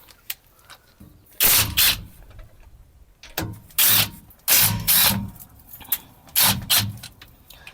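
Differential cover bolts are loosened with a hand ratchet, giving repeated bursts of quick metallic clicking separated by short pauses, close and fairly loud, with no voices.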